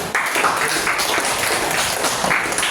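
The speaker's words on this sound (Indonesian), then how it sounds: "Beri tepuk tangan semuanya." An audience of students in a classroom gives loud, continuous applause after a presentation, with the clapping dense and close by for the whole short stretch.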